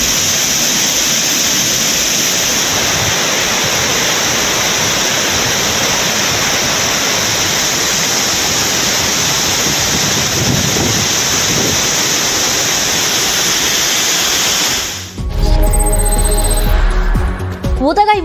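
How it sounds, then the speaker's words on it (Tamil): Courtallam's Main Falls, Five Falls, Old Courtallam and Tiger Falls in flood, a loud, steady roar of rushing water that holds unbroken, then shifts to a closer, deeper rumble near the end. "குற்றாலம் மெயின் அருவி, ஐந்தருவி, பழைய குற்றாலம், புலியருவியில் வெள்ளம் பெருக்கெடுத்து ஓடுகிறது."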